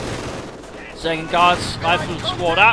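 Light machine gun fire rattles in the background of Company of Heroes 2 gameplay, with the DP light machine guns of a Soviet guards rifle squad, mostly beneath someone commentator's voice.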